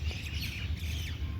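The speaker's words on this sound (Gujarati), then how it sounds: "અમે તો ગાર્ડનમાં મોર આવી ગયા છે." A peacock in a garden gives short, harsh squawking calls that rise and fall, heard fairly close over a low, steady background rumble.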